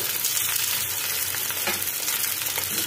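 Mixed vegetables with capsicum and peas fry in a pan, making a loud, continuous close sizzle with light crackles and soft stirring scrapes and no voices.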